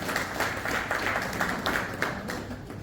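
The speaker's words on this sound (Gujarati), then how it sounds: "આપ સૌને તાળીઓથી વધાવી દઉં છું" An audience at a Lions Club region conference claps together in a hall, steady dense applause throughout with faint voices underneath.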